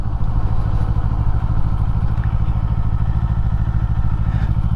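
A Kawasaki Eliminator motorcycle engine thrums loud and close on a ride, a steady rapid low pulsing beat holding constant throughout.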